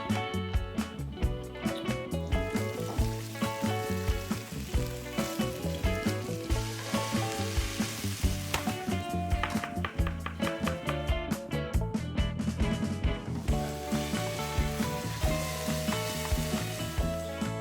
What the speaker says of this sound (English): We're gonna just saute everything to kind of wilt it down a little bit, get it nice and soft.